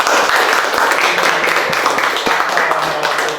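Applause from a group at a school gathering, a dense steady wash of clapping close by and loud across the whole stretch, with voices mixed in.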